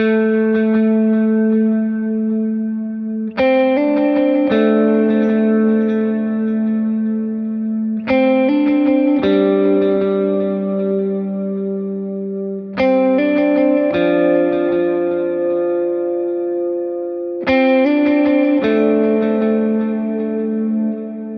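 A driving electric guitar lead drenched in effects, distortion with chorus and echo, played fast and loud in repeating phrases with sharp attacks every few seconds.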